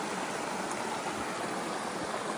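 A creek runs through the woods, a steady close rush of water filling the whole stretch without a break and with no voices.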